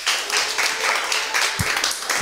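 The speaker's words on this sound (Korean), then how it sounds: "힘찬 박수로 축하해 주시기 바랍니다" Applause from a church youth group greeting a birthday celebrant at a worship service, steady broadband clapping from a small crowd throughout, fairly loud and close, with no talk.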